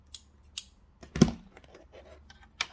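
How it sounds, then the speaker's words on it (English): Scissors snip thread away from a sewn fabric key fob, giving several short, crisp close-up cuts spread across a quiet moment, one snip louder than the rest. "now we are going to cut our thread away"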